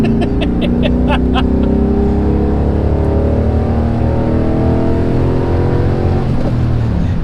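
A 6.0L LS-swapped Chevy C1500 pickup accelerates hard, its V8 rising in pitch through a long loud pull with a few sharp clicks near the start, then easing off at the end.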